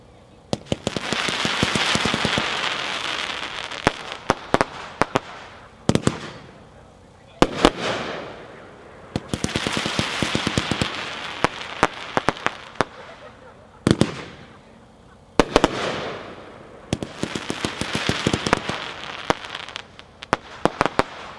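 Crossfire firework cake by Raccoon, a 51-shot consumer fireworks demo, fires in loud rapid volleys of popping bursts and crackling, with several short pauses between barrages across the whole stretch.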